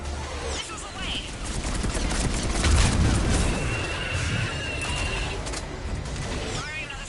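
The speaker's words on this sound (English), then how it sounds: "Missiles away." A missile salvo launches in Mass Effect 3, a sustained rumbling barrage of booms and whooshes with screeching streaks at the start and end, under radio-style voice chatter.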